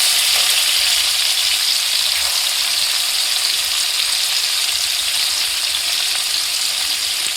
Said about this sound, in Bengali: এরকমভাবে পনিরগুলোকে সুন্দর করে ভেজে নিতে হবে